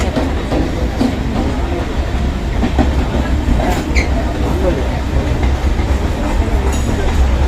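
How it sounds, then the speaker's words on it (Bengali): Steady rumbling of a train moving along rails, loud and continuous, with faint rhythmic clatter and an occasional brief metallic squeak. "ট্রেন ছেড়ে দিয়েছি"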